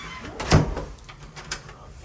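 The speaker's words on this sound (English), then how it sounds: "All these doors open and close very nicely." A side door of a house swings open and shuts, with one firm thud early on and a lighter knock about a second later over a quiet room background.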